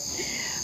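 Steady, high insect chirring like crickets, continuous and fairly loud throughout, with a faint low rustle beneath and no clear speech.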